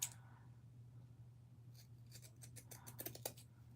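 Thick rope, a piece three or four inches long, cut in half with scissors: a run of short, crisp snips and crunches clustered near the end, close and fairly quiet over a steady low hum.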